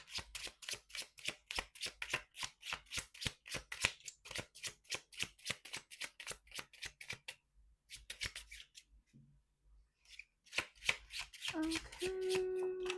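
Tarot cards shuffle in rapid, crisp riffling bursts for several seconds, pausing briefly, then resuming before a soft voice and some handling noises at the end.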